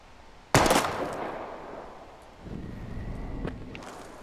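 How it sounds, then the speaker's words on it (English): A single loud gunshot at bottles in the video game Life is Strange, a sharp crack followed by a fading echo, then quieter clatter and a faint second impact, with no talk. "We're gonna shoot all these bottles without wasting a single bullet."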